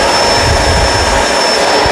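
A Kenmore Crossover Ultra vacuum cleaner runs on a rug with a loud, steady whooshing roar and a constant high whine, close and continuous throughout.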